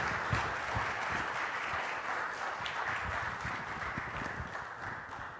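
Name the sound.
audience applause for speaker coming to stage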